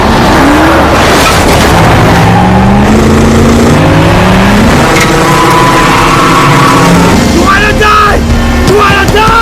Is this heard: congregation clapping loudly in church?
no